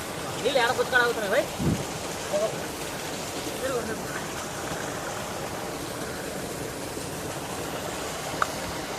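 Steady rain pours over a village, a dense even hiss filling the whole stretch, with a few voices calling out near the start.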